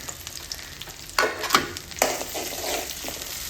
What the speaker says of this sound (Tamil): இந்த பூண்டு பல்லையும் அதில் போட்டு வதக்குவோம்.